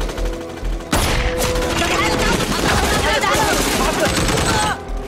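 Machine gun fire in a sniper movie scene, a sudden heavy barrage of rapid automatic bursts and impacts that stays loud and continuous for several seconds before cutting off.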